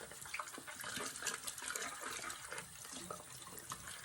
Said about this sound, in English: use that Kohl bacterial soap, put it in, swish it around.